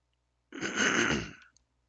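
A sick person's throat-clearing cough, one rough, breathy burst lasting about a second, close and fairly loud, with no speech around it.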